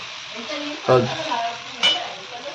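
A lacy amboli bhakri sizzles steadily on a hot griddle in a Konkan village kitchen, with two brief louder crackles and clatters as it is turned over.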